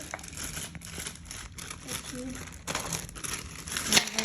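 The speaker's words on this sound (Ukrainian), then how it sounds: "відріжемо гарно ще наклейки" Stickers are cut from a sticker sheet, with soft paper crinkling and rustling in short, irregular bursts at close range while people talk.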